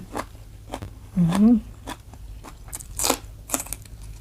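Crisp, loud bites into celery at a homemade lunch, several sharp crunches spaced across the moment, with a short murmured voice partway through.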